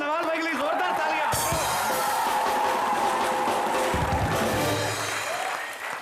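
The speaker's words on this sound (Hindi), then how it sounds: "एक बार सलमान भाई और नवाज भाई के लिए जोरदार तालियां।" Studio audience at a Hindi comedy television show applauding for celebrity guests, sustained dense clapping with a host's voice and music running over it.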